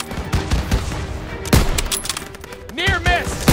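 Heavy gunfire from a Call of Duty WWII battle in a stronghold courtyard, with repeated close shots and louder bursts around the middle and end, mixed with shouted voices and battlefield commotion.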